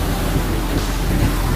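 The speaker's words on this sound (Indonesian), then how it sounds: "Gelombang begitu besar" High surf pounds Batu Bengkung beach in Malang, a loud, unbroken roar of heavy waves mixed with rough wind buffeting the microphone, with no voices.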